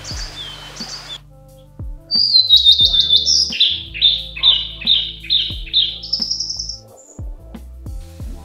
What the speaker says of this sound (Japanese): おそらく夏鳥の鳴き声ですよね。